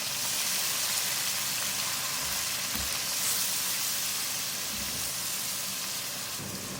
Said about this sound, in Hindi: लहसुन अदरक का पेस्ट, हरी मिर्च का पेस्ट डाल के 1 मिनट मैंने इसकी भुनाई कर ली।